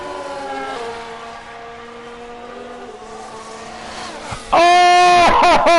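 F1 race cars cross the finish line in the F1 Manager 22 video game, with engines whining and droning past, then a loud, close surge of high engine revs near the end.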